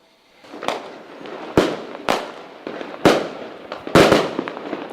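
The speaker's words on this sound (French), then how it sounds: "ce sont des feux d'artifice" Fireworks crack and boom repeatedly, sharp bangs landing every half second or so over a continuous fizzing, crackling rumble.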